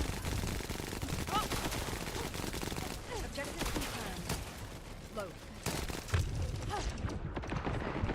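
Gunfire in The First Descendant, a looter-shooter video game. Rapid, steady bursts of shooting keep going throughout with brief louder cracks, mixed under a player's voice.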